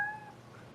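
A single cat meows once, a short, fairly clear, tonal call that fades quickly into quiet background noise.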